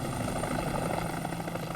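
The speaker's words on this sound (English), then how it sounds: "As the Life Flight helicopter raced for the mainland, Joellen Reilly" A Life Flight rescue helicopter flies overhead, its rotor and engine making a loud, steady, throbbing drone throughout with no voices.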